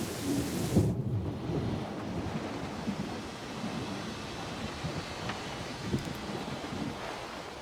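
Thunderstorm with rain in the video game Syberia: The World Before: a rumble of thunder opens, then steady rain and wind-like wash roll on evenly, with no voices.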